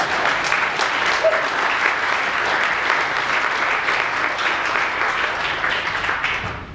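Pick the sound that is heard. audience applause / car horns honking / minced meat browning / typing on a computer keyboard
audience applause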